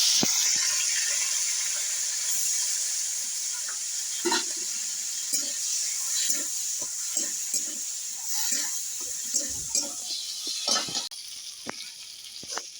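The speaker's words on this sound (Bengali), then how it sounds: "এবার আমি চিংড়ি মাছটা ভেজে নেবো।" Shrimp rubbed with salt and turmeric frying in hot oil in a kadai, a steady high sizzle running throughout with scattered pops and spatters, close and continuous, no talking.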